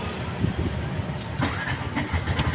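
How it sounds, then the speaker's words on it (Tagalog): A car rolls past in slow street traffic, a low engine rumble that holds steady and then swells briefly, close and fairly loud, with no voices over it. "Ayun na, may kotse."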